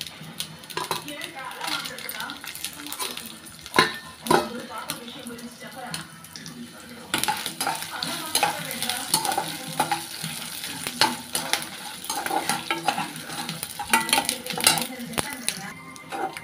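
Spinach-chutney ingredients frying together in hot oil in a pan, stirred with a utensil; clattering scrapes and knocks repeat over a steady sizzle throughout, loud and close.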